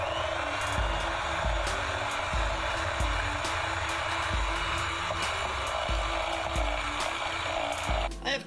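An electric mixer creams butter with sugar for snickerdoodle cookie dough, a loud steady motor whir with rhythmic clunks of the beaters against the bowl, close and continuous.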